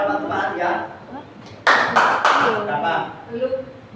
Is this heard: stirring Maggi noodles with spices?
no